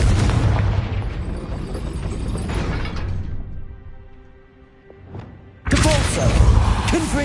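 Deep, booming blast of the Confringo fire spell in the video game Hogwarts Legacy: a loud, sustained roar that fades to a quiet lull, then a second heavy explosion bursts in near the end.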